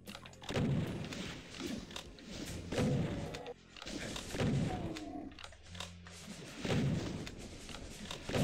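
Rocket launcher fire in Doom 64, heavy thumping blasts repeating about every second or two, with booming impacts and crashes between shots at steady, moderate loudness.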